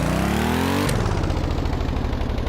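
A modular engine with universal EFI in the game Stormworks revs under a sudden load change, a steady rising whine abruptly dropping into a lower, rougher throbbing drone, loud and close with no talking.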